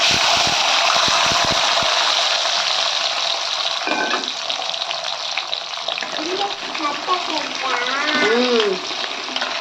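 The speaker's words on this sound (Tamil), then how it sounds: "இப்போது சின்ன வெங்காயமும் பூண்டும் சேர்த்துக்கலாம்" Shallots and garlic, added after mustard seeds have popped, sizzle in hot oil for a fish curry, giving a steady broadband hiss that eases slightly partway through, with a voice speaking briefly over the frying near the end.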